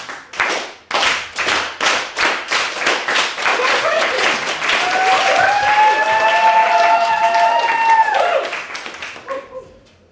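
An audience at a comedy night in a pub claps in unison on cue, loud and close, with a rhythmic run of sharp claps that swells into sustained applause before fading out near the end.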